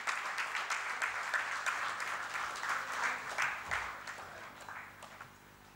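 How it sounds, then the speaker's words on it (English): A big round of applause at an installation ceremony, a hall full of steady clapping that holds for several seconds and then eases off slightly. "A huge round of applause for him"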